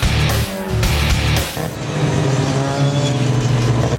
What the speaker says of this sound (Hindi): और ये है रेस का आगाज